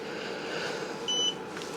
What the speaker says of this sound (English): If I push and hold the mode button till it beeps,